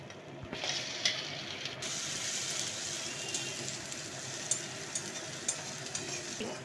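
Ginger and chili paste sizzling in a pan as it is stirred, a soft, even crackle with a few scraping clicks from the spoon, fairly quiet and close.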